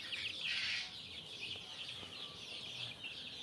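Tiger chickens clucking on a poultry farm in Bakshiganj, Jamalpur, a steady close chorus of high calls with a louder burst near the start, no talking.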